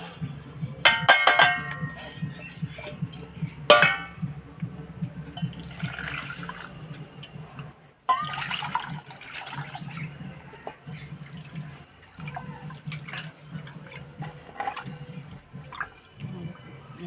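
Broken wheat (dalia) is washed in water with repeated splashing, pouring and sloshing bursts, separated by quieter stretches of trickling and handling.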